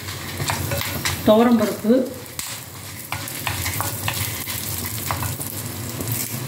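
Black pepper crackles in hot oil in a frying pan, a loud, close sizzle scattered with sharp pops, while a voice speaks briefly in the middle.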